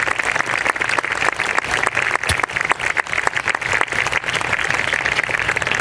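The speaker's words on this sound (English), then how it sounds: "let's give all of them a round of applause for the work that they did" Audience applause at a Justice Day event with the mayor, a dense, steady wash of many hands clapping, loud and continuous for the whole stretch with no talk over it.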